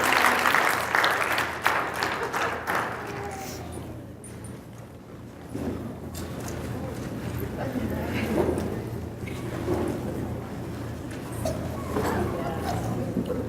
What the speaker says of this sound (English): I think we need to give a standing round of applause for our round 2 participants from our panel today.